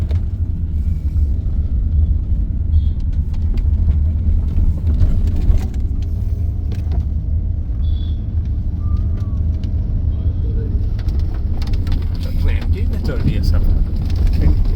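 A car engine labours up a steep hill road at Matheran, a steady loud low rumble with wind buffeting the microphone and voices talking over it throughout.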